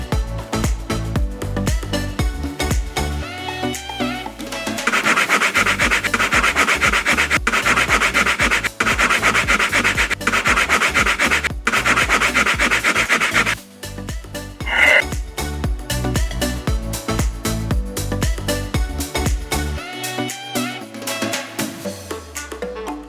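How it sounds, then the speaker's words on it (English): A plastic mobile phone cover is sanded by hand with steady, dense rubbing strokes that grow louder through the middle stretch, all over continuous background music. "but first let's sand the cover."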